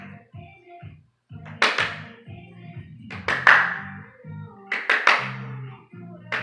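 Bursts of hand clapping come in quick clusters between the soft thuds of a ball being tossed and caught, recorded close in a quiet room, with a few pauses between rounds.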